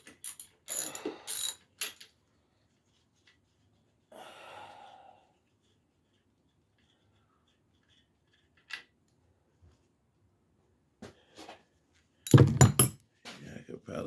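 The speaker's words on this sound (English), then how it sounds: "Some of these here had already started cracking loose with my spark plug wrench." A ratcheting spark plug wrench on a 1983 Suzuki PE175 engine clicks in short, sparse bursts with long quiet gaps, close and fairly faint, ending in a louder clatter.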